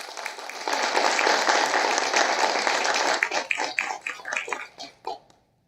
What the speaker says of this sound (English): just a round of applause for our panel